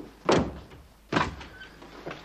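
A door bangs shut twice, each a sharp, close thunk with a short rattle, spaced under a second apart over quiet room tone.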